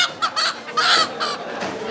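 Local desi roosters and hens at a market in Ullapara, Sirajganj, give a short burst of close, loud clucks and squawks in quick succession, with no voices heard.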